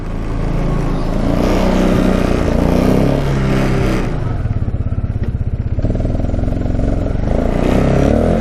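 A Yamaha Tri-Z three-wheeler's engine revs loudly and pulls away, a close, rattling two-stroke buzz with clattering and pitch shifts as it moves off.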